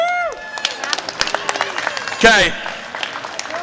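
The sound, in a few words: audience applause for the two teams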